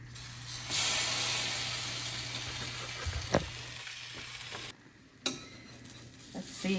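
French toast sizzling on a home griddle, a steady close frying hiss with a few sharp clicks and scrapes of a spatula partway through, and no talking.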